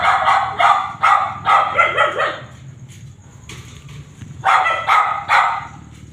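Several dogs barking in a dog compound, loud close bursts of barks in quick clusters, with a short lull before another run of barking.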